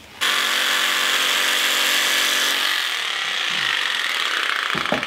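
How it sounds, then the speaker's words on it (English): A power tool cuts the corners off sheet metal for an ammo-can tent stove, a loud steady high-pitched grinding whine that starts abruptly and runs on, easing slightly near the end, with no voices. "I'm also just going to cut the corners off these"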